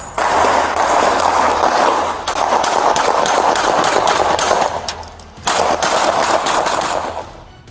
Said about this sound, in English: the officers saw 44-year-old Michael Meadows walking toward an open business while firing multiple rounds from a handgun